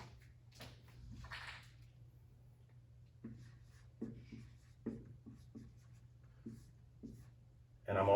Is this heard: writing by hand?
yes